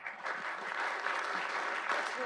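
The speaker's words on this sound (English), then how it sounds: "Let's give a round of applause." Applause after a keynote at the AuScope Research Conference 2025, a steady round of clapping from a seated audience, moderately distant and sustained throughout with a little background murmur.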